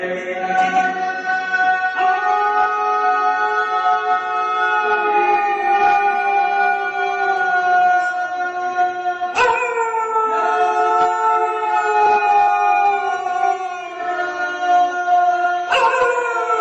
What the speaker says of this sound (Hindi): तब वहाँ ये कुत्ता आता है और जोर से भौंकने लगता है।